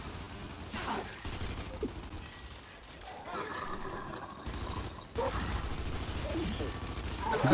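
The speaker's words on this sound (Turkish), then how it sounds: "Aşağıdan vuruyorlarmış." Steady, dense gunfire in Gears 5 goes on throughout with rapid shots and mechanical clatter, fairly loud, with some game voices mixed in.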